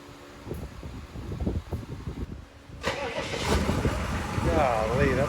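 A 6.5 liter diesel truck engine cranks and catches, settling into a clattering idle with a whining turbo, heard from some distance outdoors.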